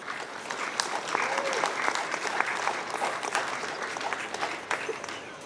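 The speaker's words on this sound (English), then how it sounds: "can we please give them all an initial round of applause?" An audience applauds athletes at a collegiate letter-of-intent signing ceremony: steady, moderately loud clapping from a crowd, with faint voices and a few cheers mixed in, sustained throughout.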